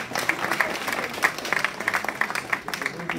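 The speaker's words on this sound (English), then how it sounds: "Can you give him a round of applause?" Audience applause at a London Sportif annual awards ceremony, steady crowd clapping with bright irregular claps throughout, fairly close and sustained, no talk over it.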